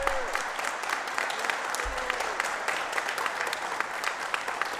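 Applause from the audience at a school spring performing arts concert fills the hall, a broad, even wash of clapping with a few low thumps underneath, steady and fairly distant.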